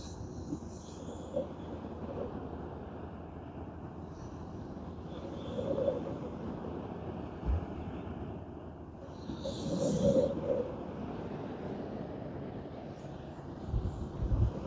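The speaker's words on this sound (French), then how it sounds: "Le vent commence à se lever" Outdoor wind by a riverbank, rising and buffeting the microphone as a steady low rumble with stronger gusts that swell and fade.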